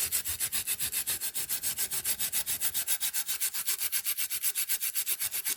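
A Scotch-Brite pad rubs paint off an RC truck body in fast, even back-and-forth strokes, a steady rhythmic scratchy scrubbing close up with no talking.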